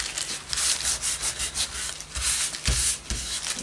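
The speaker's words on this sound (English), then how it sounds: "burnisher to scrape some of that glue out of the way." A metal burnisher scrapes dried glue across the paper surface of a vintage journal, making repeated close, dry rubbing strokes in short uneven bursts with no voices.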